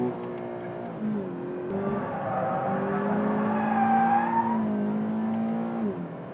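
A Toyota GT 86 with stability control off drifts, its engine revving and wailing close by in rising and falling sweeps over a continuous tire roar.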